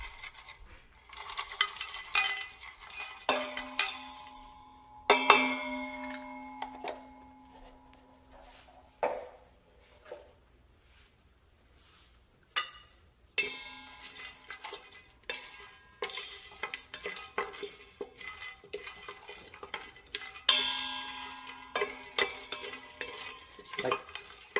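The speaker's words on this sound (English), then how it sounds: "Like just for 1 minute, stir it around, not more than that." Spices stirred in ghee in a pan for restaurant-style mutton biryani, with repeated metallic scraping and clinks over a soft sizzle and background music.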